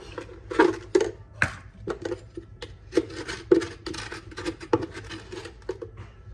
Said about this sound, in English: I need to scrape it out of the barrel.